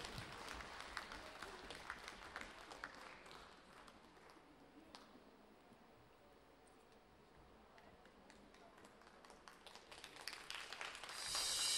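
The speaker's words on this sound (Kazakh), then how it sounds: "Қымбатты достар, шапалақтарыңызбен шабыт сыйла отырыңыздар." Audience applause at a folk concert of Kazakh songs, a steady patter of many hands filling the hall, fading a little mid-way and swelling again toward the end.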